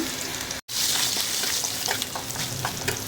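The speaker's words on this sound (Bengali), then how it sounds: "রসুনটা দিয়ে দিই বাগার দিয়ে দিন" Garlic hits hot oil for tempering with a loud, close burst of sizzling that runs on steadily after a brief dropout, with faint stirring clicks.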